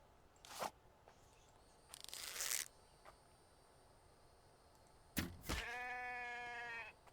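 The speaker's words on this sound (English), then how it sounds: "I killed a sheep" Sheep bleating in a survival video game, a short wavering bleat near the end after scattered bursts of clicks and scuffling game effects, fairly quiet overall with no talk.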